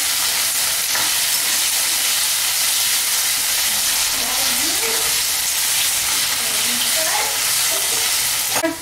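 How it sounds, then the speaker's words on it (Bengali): Potatoes fry slowly in a pan until browning, a steady broadband sizzle with occasional stirring scrapes running the whole time, close and fairly loud with no talking. "আলুটা আস্তে আস্তে ভাজবো, একটু ভাজা ভাজা হবে, ব্রাউন কালার আসবে"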